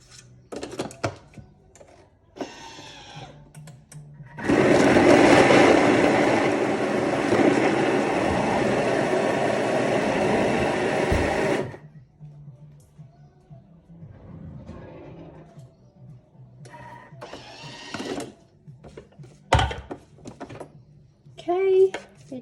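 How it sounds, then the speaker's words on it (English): Knife chopping zucchini and carrot on a board for Vietnamese patties, a dense run of quick steady cuts lasting several seconds, with a person talking before and after. "I'm just going to chop that down a little"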